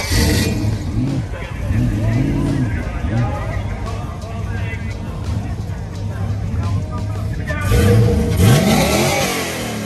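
A car with an LS engine revs repeatedly, with its loud swelling roars rising and falling nearby while people talk over it.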